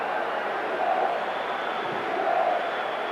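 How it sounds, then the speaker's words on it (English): Football stadium crowd cheering for Paul Gascoigne at a Lazio versus Inter match, a steady roar with two brief swells, heard from a distance without speech on top. "Just acknowledging the cheers of the crowd then"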